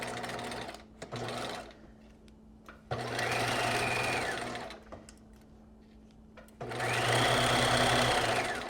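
Sewing machine stitching a narrow zigzag hem on a knit pencil skirt, running in two long bursts of steady mechanical whirring with short pauses and small clicks between, close and moderately loud.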